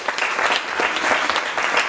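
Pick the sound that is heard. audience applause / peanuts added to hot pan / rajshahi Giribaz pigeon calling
audience applause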